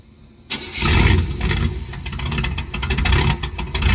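A loud, raspy car engine with a 3-inch straight pipe exhaust fires up and keeps idling with a rough, throaty rumble and crackling exhaust, close by and without any talking.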